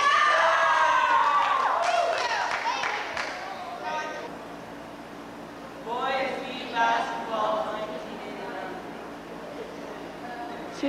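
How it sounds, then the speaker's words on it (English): A crowd of school children cheers and shouts at a 1989–1990 school event, a burst of high excited voices that dies down then rises again in a second wave, with an adult speaking over it. "How about a big cheer, guys?"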